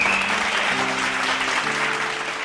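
A congregation at a late-night Bible study applauds, a steady dense wash of clapping heard over a soft sustained musical backing.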